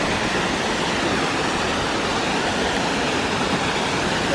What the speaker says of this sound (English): here's the second waterfall